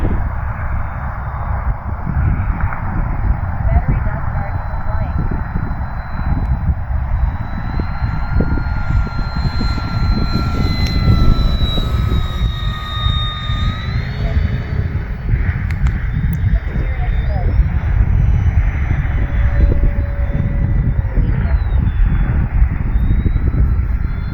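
An E-flite P-47 Thunderbolt 1.2 m RC model airplane on a 3300 mAh 4S battery flies overhead, its electric motor and propeller making a continuous loud drone that rises and falls in pitch as it passes, with an outdoor wind rush behind it.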